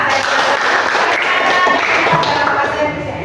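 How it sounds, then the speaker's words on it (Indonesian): A classroom crowd fills the space with dense, loud applause, a continuous wash of clapping that holds steady and fades slightly at the end. "Kita beri tepuk tangan dulu."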